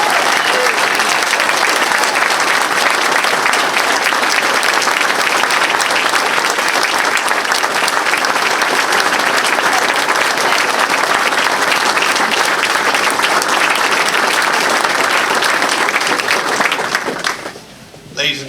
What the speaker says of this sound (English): Let's give a round of applause to Frank LaCour.